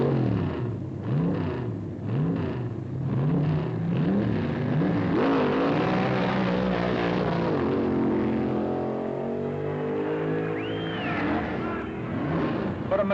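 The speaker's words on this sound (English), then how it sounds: "Another touring professional, Bruce Larson, turns in impressive speeds with his fierce new funny car that becomes an immediate favorite with the" A drag racing funny car at the 1968 NHRA U.S. Nationals roars past, engine revving and rising then fading over several seconds, heard through an old film soundtrack without talk.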